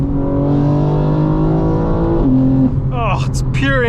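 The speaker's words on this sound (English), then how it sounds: "Engine noise, guys. Pure exhaust." A 2025 BMW M4 Competition xDrive sounds close up from inside, its engine and exhaust droning loudly as the revs climb, dipping briefly at a shift and then rising again in a strong pull.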